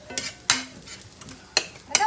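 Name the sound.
onions sizzling as they caramelize in a pan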